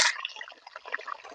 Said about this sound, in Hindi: मुर्गा शामिल करने के बाद अब हम पानी शामिल कर लेते हैं।